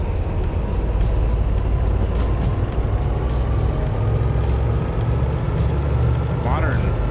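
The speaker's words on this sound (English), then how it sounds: "switcher like a MP15 would sound like this." Steady, loud diesel rumble from an MP15 switcher locomotive in the Derail Valley game, droning without a break, with a faint rising whine near the end.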